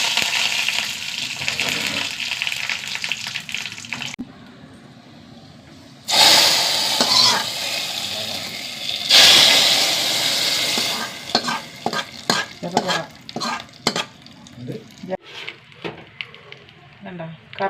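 Curry leaves and dried red chillies hit hot oil with mustard seeds in a home kitchen, giving loud bursts of sizzling and spattering crackle that flare, fade and flare again, with a voice talking in between.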